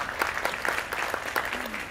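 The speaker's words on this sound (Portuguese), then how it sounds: "Aplaudo a Camila, por favor." An audience at a lecture claps for Camila: steady, close applause with rhythmic surges of hand claps over two seconds.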